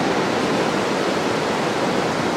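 Sea waves wash steadily onto an Aberdeenshire beach as a small tide comes in, a continuous close rushing surf with no breaks and no voices.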